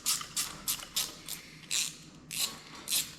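Tools working on a carburettor choke part during a rebuild, giving a run of about nine evenly spaced, close ratcheting clicks in quick rhythm with no voices.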